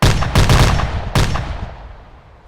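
Artillery guns, including a 60mm mortar, an M119 and an M109, fire in a gunnery training game: a few heavy booming shots close together, each followed by a long rumbling decay.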